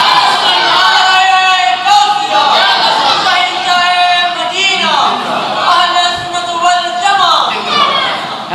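A large crowd at a Bengali Islamic religious gathering chants together in loud, sustained, overlapping voices, rising and falling in waves of call-and-response with no pauses.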